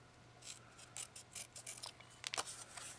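Scissors snipping through card in a series of short, quiet cuts, several crisp strokes in an irregular rhythm close by, with no talk over them.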